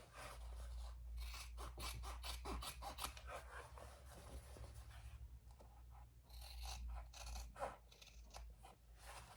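Scissors trimming the sewn seam allowances of a fabric eyeglass case, giving quiet, rapid rasping snips in two bursts separated by a short pause, faint and close.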